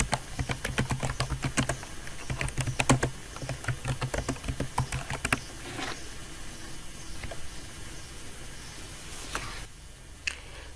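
Typing on a computer keyboard comes through as quick irregular clicks, dense at first and then thinning to scattered taps, close and clear with no voices.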